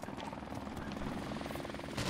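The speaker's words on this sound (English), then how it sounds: "Friendly helicopter on the way." A helicopter in an online multiplayer shooter video game, its steady rotor chop thudding rapidly and continuously at moderate distance while a player talks over it.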